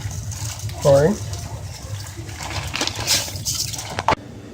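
Liquid is poured into a rice cooker in a home kitchen while pork pot stickers are being prepared. The pour gives a short, moderately loud splash and trickle, and faint voice sounds come through.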